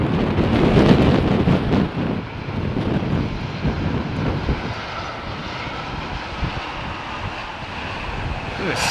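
An airliner lands at London Heathrow Airport. Its engine roar is loud and broad at first, then eases into a steady rushing drone, with wind buffeting the microphone and faint voices in the background.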